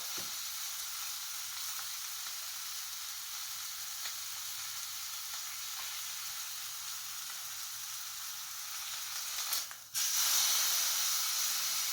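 Beef pot roast searing in a Dutch oven, a soft steady sizzle and hiss throughout, fairly quiet, rising to a louder burst of sizzling near the end.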